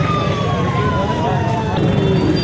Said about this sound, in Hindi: नाज़रीन देखें ये पुलिस की गाड़ी आ गई है